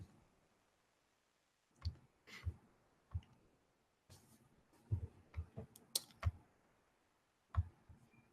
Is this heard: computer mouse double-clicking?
yes